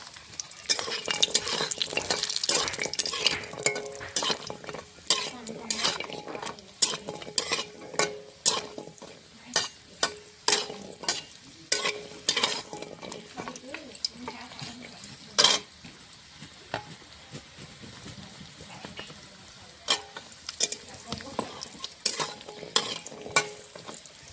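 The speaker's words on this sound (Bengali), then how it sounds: "কড়াইতে তেল দিয়ে দিয়েছি, গরম হয়ে গেছে। বড়িগুলো ভেজে নেব।" Lentil dumplings (bori) fry in hot oil in a wok, a steady sizzle broken by frequent sharp scrapes and clinks of a spatula stirring against the metal, close and moderately loud with no talking.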